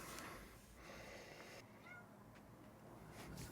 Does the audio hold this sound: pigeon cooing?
no